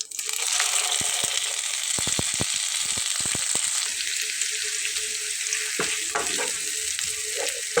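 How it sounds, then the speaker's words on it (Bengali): Onion and garlic paste frying in spluttering oil, giving a steady close sizzle throughout with sharp pops and crackles, heaviest in the first four seconds, and no talking. "পেঁয়াজ আর রসুনটা দিয়ে নিয়েছি, তেলটা কিন্তু একটু ফাটতেছে"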